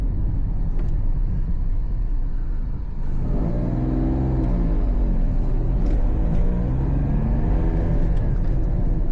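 A Toyota Aygo climbs a steep, narrow country hill with its engine droning steadily under load, the low rumble rising in pitch as it pulls, heard from inside the car without talk.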